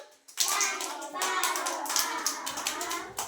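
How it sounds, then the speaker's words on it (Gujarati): Children clap their hands in time to a Gujarati marching song, a burst of many small, bright hand claps starting abruptly and continuing in a lively, slightly uneven patter with a voice faintly mixed in. "તાળી પાડો આમ"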